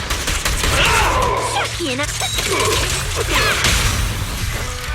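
Rapid gunfire bursts in Zenless Zone Zero combat, loud and dense with whooshing effects and impacts, mixed with character voice lines and game music.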